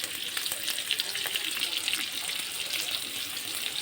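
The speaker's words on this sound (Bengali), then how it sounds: "আলুগুলোকে ভালো করে ভেজে নেব।" Salted potatoes fry in a pan over low to medium heat, giving a faint, steady sizzle with light crackling pops throughout.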